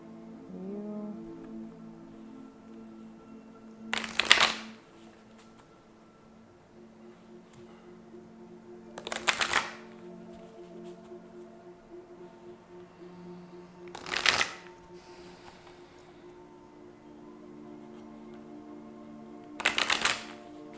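Tarot cards being shuffled by hand, four brief riffling bursts spaced about five seconds apart, close and fairly soft against a quiet room hum with no talk.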